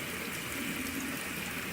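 Water rushes steadily while flushing out a potted plant, a continuous close, full splashing flow with no breaks.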